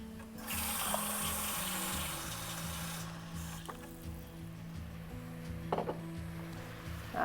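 Water runs from a tap, filling a cup for bouillon in a home kitchen, a steady continuous stream with a few clinks of the cup and other kitchen noises over a low background hum.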